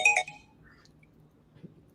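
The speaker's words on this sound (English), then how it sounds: "I got a phone call coming in." A phone signals an incoming call with a short, bright electronic ringtone burst at the start. It falls away quickly into quiet room noise, with a faint soft tap near the end.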